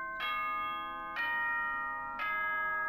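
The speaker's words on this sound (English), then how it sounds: "that reminds me of a doorbell every single time it happens" A doorbell-like school announcement chime from the Danganronpa: Trigger Happy Havoc video game rings three times at even intervals, each bright, sustained multi-tone ding decaying slightly before the next, clear and alone with no talking.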